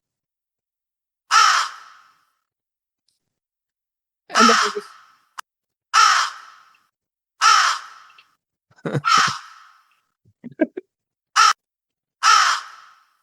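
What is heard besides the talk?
crow cawing sound effect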